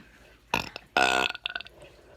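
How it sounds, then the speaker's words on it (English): Two loud, drawn-out burps from a woman, the second long and rumbling, followed by a few shorter gulping burp bursts, close and clear with no talking. "a burp was already ready to come out"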